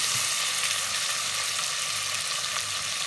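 Peas sautéing in a pan for Bajan green peas and rice, a dense, even hiss of sizzling oil, close and steady with no voices over it.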